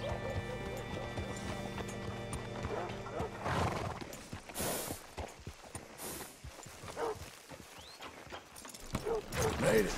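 Horse snorting and whinnying with clip-clopping hooves in Red Dead Redemption 2, set against a low ambient drone, with a few sharp loud bursts and some faint game voices in the background.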